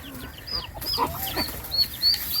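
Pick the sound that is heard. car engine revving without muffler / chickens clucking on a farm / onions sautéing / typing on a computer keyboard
chickens clucking on a farm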